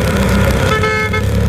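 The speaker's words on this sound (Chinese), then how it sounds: "连续长鸣喇叭声" A car horn blares in a continuous long honk amid road traffic on a city street, loud and steady through the whole moment with engine noise beneath it.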